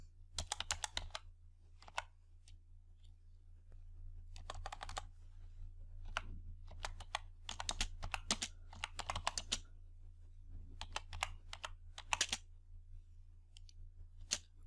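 Bursts of typing on a computer keyboard, quick clustered keystrokes separated by short pauses, close and fairly quiet over a steady low hum, with no talking.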